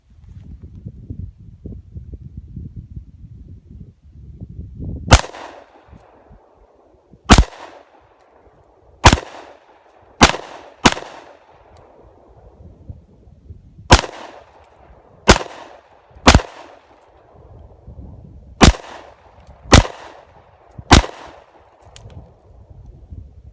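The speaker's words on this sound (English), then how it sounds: "we're just gonna shoot it a little bit and then we'll talk about it some more" A Sig Sauer P365 compact pistol fires about eleven sharp, loud shots in uneven clusters, each cracking over a quiet background after a brief low rumble at the start.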